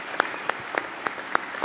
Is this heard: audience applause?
yes